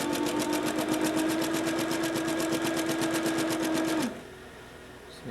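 Sewing machine joining pieces of a circus tent, running in a fast, steady stitching whir close up for about four seconds, then stopping abruptly into quiet.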